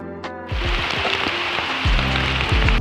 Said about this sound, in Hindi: जोर से हो रही थी बारिश